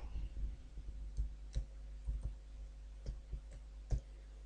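Sharp, faint mouse clicks spaced irregularly over a low steady hum, as a search button is pressed on a computer during an Amazon seller account session.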